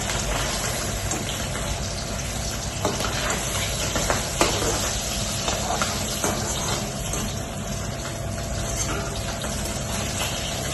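Bata fish curry with radhuni spice paste cooks in a pan, giving a steady, dense sizzle and bubbling with occasional stirring clinks, continuous and fairly close.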